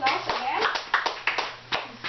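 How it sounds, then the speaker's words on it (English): Applause for a seventh-grade class during a classroom lesson on speaking and reporting, a short burst of sharp hand claps with voices chattering throughout. "please give them a round of applause again."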